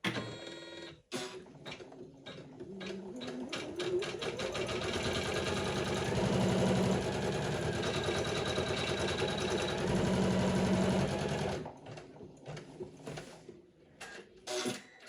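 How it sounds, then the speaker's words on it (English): An embroidery machine stitches a leather patch onto a beanie, its rapid mechanical needle chatter building into a steady loud whir for several seconds before stopping, with scattered clicks around it. "So now we want to start embroidering our beanie."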